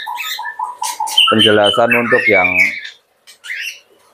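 Young budgerigars chirp in short bright bursts close by, their twittering mixed with someone talking over them in a bird-breeding setting.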